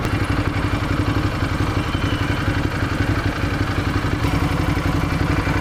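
A motorcycle rides through New York City streets, its engine a steady close mechanical drone with rattling clatter and a continuous rhythmic pulse, street noise around it and no voices.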